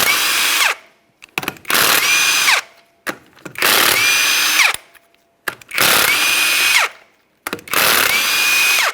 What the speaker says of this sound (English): To remove the wheel, remove all 5 of your 19mm lug nuts